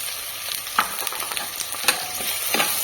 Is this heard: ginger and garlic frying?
yes